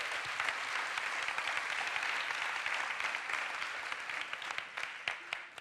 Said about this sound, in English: I think you can applaud her again.